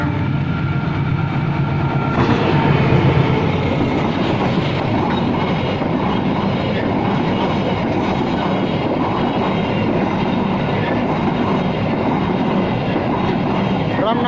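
A long, empty cement freight train hauled by a CC 206 locomotive rolls steadily past close by at night in Indonesia, wheels clattering rhythmically over the rails with a continuous loud mechanical roar throughout.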